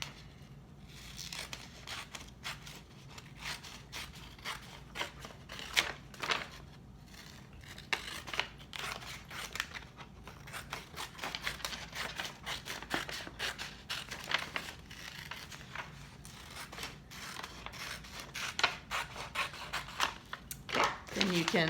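Scissors snip steadily through paper for about twenty seconds, a rapid run of close crisp cuts and rustles while a person speaks quietly over parts of it.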